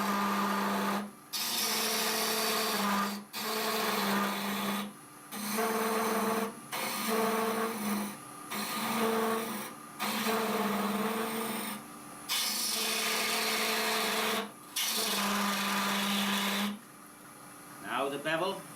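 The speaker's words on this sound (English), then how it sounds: "Notice now the speed or the feed of the tool is slower because the lathe's running slower." A wood lathe spins a long-stemmed goblet while a gouge shapes the stem, producing repeated cutting passes of steady whirring scrape broken by brief pauses, close and moderately loud, with a low motor hum beneath.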